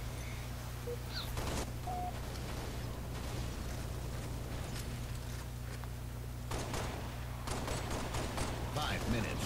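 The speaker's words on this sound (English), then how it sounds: "my teammates and we're all putting support shots on that guy, but he wasn't seeming to die" Video game gunfire from a Halo Reach Slayer multiplayer battle, scattered shots and bursts popping through a steady background drone, with sharper volleys near the start and toward the end.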